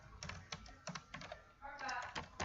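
Quick irregular clatter of fingers typing on a computer keyboard, light close keystrokes with a denser flurry toward the end, soft and fairly quiet.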